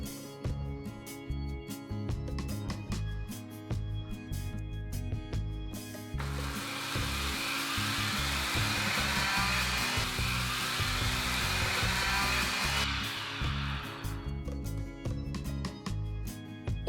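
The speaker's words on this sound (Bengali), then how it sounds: "এবারে আমরা মশলাটাকে গুঁড়ো করে নেব, তবে একদম মিহি গুঁড়ো করব না।" An electric mixer-grinder jar coarsely grinds roasted spices for a Mughlai chicken curry, a loud steady whirring roar that starts abruptly, runs for about seven seconds and then cuts off, with background music playing throughout.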